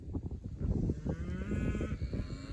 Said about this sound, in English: And the cows are doing good, you know.